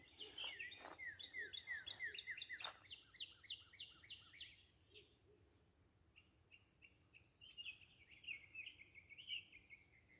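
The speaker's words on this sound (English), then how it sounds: "So the birds are real active in the morning." Birds chirp and tweet in quick, overlapping bursts, busy at first and then thinning to sparser calls, with a faint insect-like trill running underneath.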